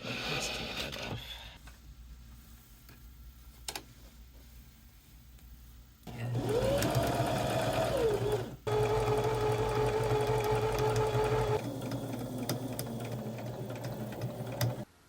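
A sewing machine runs in steady bursts while stitching salvaged canvas for a lapbook, its motor whirring at a constant pitch for several seconds at a time, with quieter handling noise between runs.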